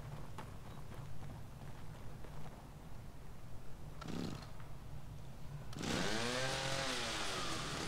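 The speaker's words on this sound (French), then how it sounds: "Comment je sors la tronçonneuse hein?" A chainsaw in the horror video game The Evil Within revs in bursts, rising to a loud sustained buzzing roar near the end.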